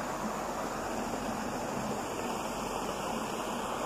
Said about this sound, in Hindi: ये चश्मा, ये पहाड़ से पानी आता है